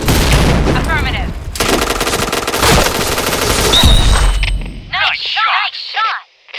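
Loud sustained automatic gunfire in a shooter video game, dense rapid bursts that keep rattling for several seconds, then give way to chirpy game sound effects and a voiced callout at the end.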